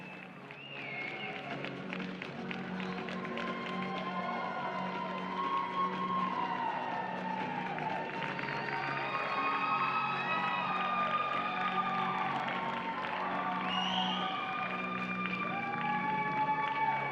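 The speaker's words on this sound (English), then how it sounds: "would you give these gentlemen drivers and their pleasure driving entries tonight a nice round of applause?" An indoor coliseum audience cheers and applauds the gentlemen drivers and their pleasure driving entries, a sustained crowd roar with whoops and shouts rising and falling throughout.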